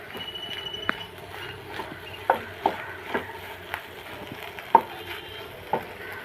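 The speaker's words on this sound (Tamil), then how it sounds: "நல்லா மிக்ஸ் பண்ணி விட்டுக்கலாம்." A spatula stirring cluster bean and egg podimas in a pan on low heat, with pepper powder added, gives sharp scraping clicks roughly every half second over a faint background sizzle.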